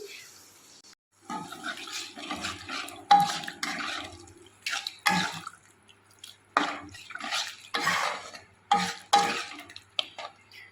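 Water poured into a pan of frying spice paste with potatoes, giving bursts of hissing sizzle and splashes with stirring clatter, separated by short pauses.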